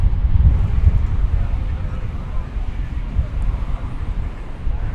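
British Airways Speedbird airliner passing at DFW Airport, a low, broad engine rumble with gusty wind noise, steady and distant, with voices faintly underneath.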